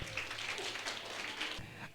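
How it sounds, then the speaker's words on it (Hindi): Applause from a seated audience at a lively stage event, a steady wash of many hands clapping at moderate volume that continues for about two seconds, with a low hum underneath. "इस बात के लिए बेटा तालियां हो जाएं जोरदार एक साथ।"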